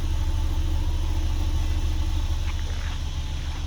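A 2019 Ford Mustang Premium EcoBoost in Magnetic metallic idling with a steady, continuous low exhaust rumble close by, holding an even level throughout with no voices.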